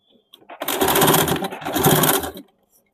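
Sewing machine running a double stitch along a blouse armhole and side seam in two steady bursts of rapid needle chatter, close and loud, with short pauses.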